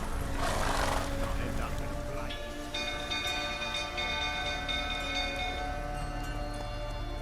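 Roach, Geralt's horse in The Witcher 3, whinnies loudly near the start, then its hooves and game ambience continue under steady tonal music and background sound.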